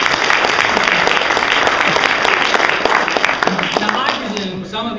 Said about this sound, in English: Give these folks a round of applause, if you don't mind,